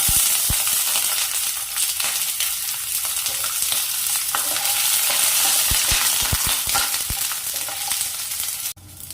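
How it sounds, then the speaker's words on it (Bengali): Eggplant frying in hot oil in a home kitchen while making shukto, a steady close sizzle with scattered sharp crackles and pops, no talking, ending with a quick clatter as it drops off. "এবার এই তেলের মধ্যে বেগুনটা ভেজে নেব।"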